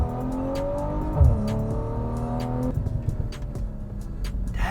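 Single-turbo B58 inline-six in a 2023 BMW M340i revving hard, engine note climbing through the rev range, dropping, then building again, loud and close with no talking.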